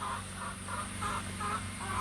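Chickens clucking in a steady, repeating rhythm on a mountain farm, fairly close, over a constant low hum; no talking.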